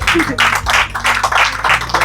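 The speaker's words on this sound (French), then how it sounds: "Applaudissez pour M. Maungu, s'il vous plaît." An audience at a married couples' meeting claps for a guest in a steady, rhythmic run of bursts, fairly close and lively, with a low tonal hum underneath.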